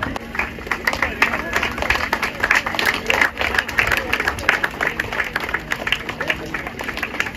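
Applause from the audience at East Bengal Club's 61st annual athletic meet in 2024: dense, continuous clapping for the whole stretch, with crowd murmur underneath.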